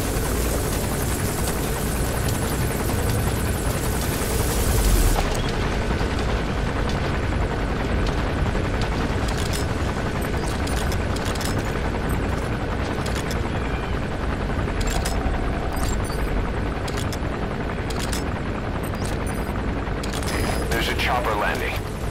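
A helicopter gunship in Metal Gear Solid V roars with a steady, loud rotor thrum that fills the scene throughout, dense mechanical noise with faint bursts of gunfire and other game sounds mixed in.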